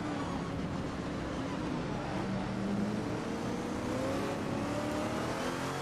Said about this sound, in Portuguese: Esse aqui é o Lola T70 Mark II.